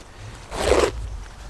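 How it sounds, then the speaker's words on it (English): A heavy-duty zipper on a Carhartt Full Swing work jacket is pulled in one quick, close, rasping stroke that lasts under half a second against a quiet background. "zipper,"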